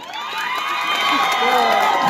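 A crowd at a political rally in Nyeri, Kenya, cheers and shouts in a loud, sustained roar, with whistle-like tones rising above the noise.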